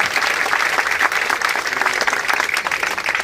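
An audience claps at a development works inauguration ceremony with a guardian minister, dense continuous applause, loud and close, steady for the whole stretch without a break.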